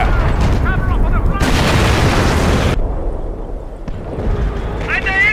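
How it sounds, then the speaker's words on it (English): Incoming artillery fire in the World War II strategy game Company of Heroes, with heavy explosive blasts bursting out loud and close over shouted battlefield voice lines, a sharp burst mid-way then a lull and another crack. "Incoming artillery, take cover!"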